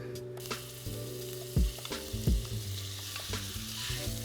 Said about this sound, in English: So now the pan is hot. We can place the meat.